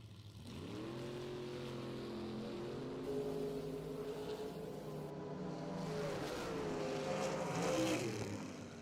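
Drag racing cars, a Plymouth Barracuda and the Boss Lady Camaro, at a bracket racing event, a loud sustained engine roar that climbs and holds as they launch down the strip, heard from a distance.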